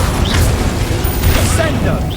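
The Confringo fire spell in Hogwarts Legacy goes off in dense, booming combat noise, a loud continuous low rumble with bursts and crackles and faint whooshing magical tones layered on top.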